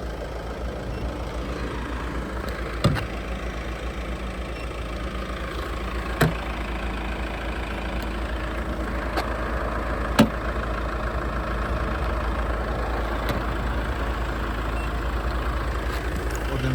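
A 2015 Peugeot 508 2.0 HDI diesel engine idles steadily with a deep, continuous rumble, a few faint clicks and taps occurring now and then over it.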